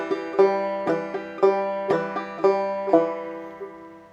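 Clawhammer banjo plays a phrase of I'll Fly Away in a steady, bright rhythm of plucked notes and brushed strums, each attack ringing and decaying, close and clear, with no talking.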